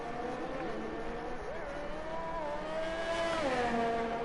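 An Alpine race car engine drones steadily through a sim racing lap, its pitch sliding up and down with gear changes and revs as a commentator talks over it.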